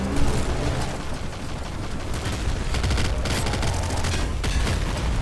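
Rapid bursts of gunfire in the video game Nuclear Throne, dense and continuous with crackling shots and low booms, loud and steady throughout with no talking.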